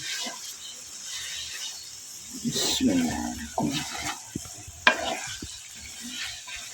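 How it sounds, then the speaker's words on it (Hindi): Okra gently stirred into masala in a pan, soft sizzling under intermittent scraping and clinking of a spoon, with a sharp utensil knock near the end. "इसे हम अब मिक्स करेंगे आस्ता कि ये हमारी भिंडी टूटे ना"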